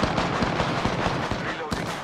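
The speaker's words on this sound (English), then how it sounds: "I am taking fire" Rapid gunfire in the Apex Legends video game, a quick string of sharp, loud shots in steady rhythm with a louder burst near the end, while a voice speaks over the shooting.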